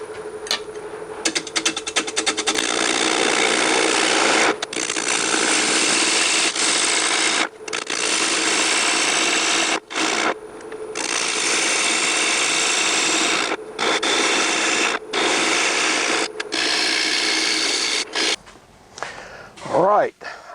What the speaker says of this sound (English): Now I'm going to turn away some of the bottom there and clean it up.